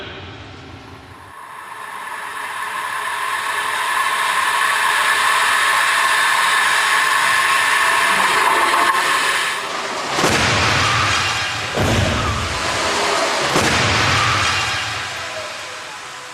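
A crash test car carrying a dummy is launched down the track with a rising, sustained whooshing roar. Near the end come several heavy broadband impacts and rumbling bursts of the collision.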